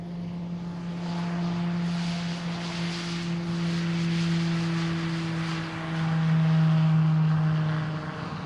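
A Piaggio P180 Avanti twin turboprop departs Boeing Field, its engines holding a loud steady droning hum with a strong tonal whine that swells as the plane moves, heard alone without talk.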